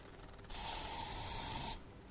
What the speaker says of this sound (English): when you are spraying, you need to make a distance of 8 inches